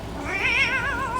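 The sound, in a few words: cat meowing in a spooky video game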